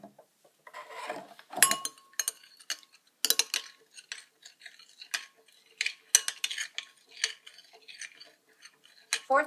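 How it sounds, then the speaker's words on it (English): Homemade hand sanitizer ingredients, including nail polish remover, are mixed in a bowl: a utensil clinks and scrapes against it in irregular bursts with short pauses, close and fairly quiet. "Remember to mix well."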